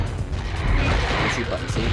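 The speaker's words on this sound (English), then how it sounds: "a lot of it is just spam the shoot button" Rapid, repeated shooting in Space Invaders on the Nintendo 64, a busy stream of overlapping blasts and bursts from the game, running continuously.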